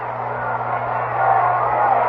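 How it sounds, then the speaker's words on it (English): Crowd at a baseball game giving Orlando Cepeda a big hand in the 9th inning, a steady broad wash of applause and cheering that swells slightly toward the end, with a low steady hum beneath. "here's Cepeda getting a big hand from the crowd"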